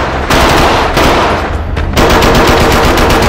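Deafening automatic gunfire tears through a restaurant during a massacre, with sustained loud bursts of rapid shots separated by brief gaps.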